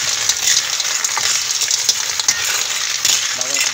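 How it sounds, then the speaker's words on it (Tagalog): Seafood and lemongrass sauté in a hot pan, giving a loud, dense, continuous sizzle with faint scraping from stirring and no talking. "Pati yung tanglad mga idol, halo na natin. Oo, sa gisa."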